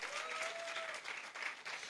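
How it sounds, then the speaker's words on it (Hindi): An indoor audience bursts into sustained, dense clapping that swells and dips in waves for the whole stretch, with no speech over it. "अपने लिए ताली बजाओ।"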